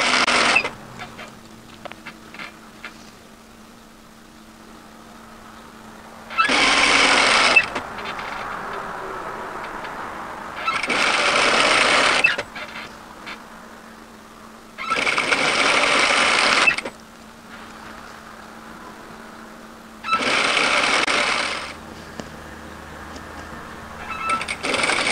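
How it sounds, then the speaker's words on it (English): Sewing machine stitching a wrap cardigan seam straight through the overlocked line, running in four loud bursts of a few seconds each separated by quieter pauses with faint handling. "And I'm sewing directly through my overlocking line."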